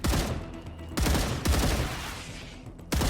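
Rapid automatic gunfire from a low-recoil gun in the Star Rupture video game, loud and close, with dense bursts and sharp new volleys starting about every second or so, no talking over it.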